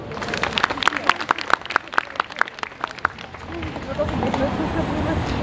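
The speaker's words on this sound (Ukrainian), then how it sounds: "Ваші оплески." Scattered, sharp claps from an audience at an embroidery arts event, building into a broader wash of applause and crowd murmur toward the end.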